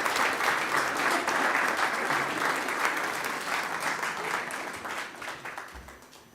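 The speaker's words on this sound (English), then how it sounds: "How about a big round of applause for them and for Annie, who heads this committee." Steady applause from a crowd fills the room, many hands clapping continuously and gradually thinning out toward the end.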